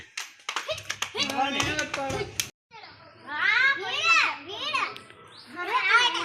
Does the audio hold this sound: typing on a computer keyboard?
no